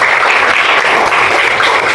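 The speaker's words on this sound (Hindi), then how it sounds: "ताली बजाइए" A classroom of school students clapping together, a loud, dense and steady burst of applause that fills the whole moment without any voices.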